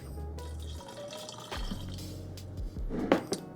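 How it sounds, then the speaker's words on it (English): A quarter cup of water is poured into a sauce during low FODMAP meal prep, giving a brief, close liquid splash and trickle with no talking. "So I'm gonna add 1/4 cup of water."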